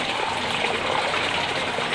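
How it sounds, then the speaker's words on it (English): Water swirls and gurgles in a steady, rushing flow, like a small vortex draining down a pipe, as water whirlpools into the drain tube of an aquaponics setup, with no voices. "So the water is just whirlpooling around at the moment."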